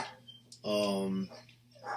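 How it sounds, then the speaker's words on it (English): A few dogs bark indoors, one loud close burst of barking in the middle with fainter yips before and after, heard behind someone talking. "I'm sorry if you hear my dogs barking."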